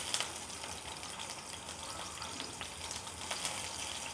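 Chopped onions fry in oil in a pan with a quiet, even sizzle and scattered small crackles and pops.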